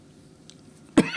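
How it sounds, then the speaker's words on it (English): A single sharp cough near the end, close and loud, after a second of quiet room tone. "Sorry for coughing, I don't smoke."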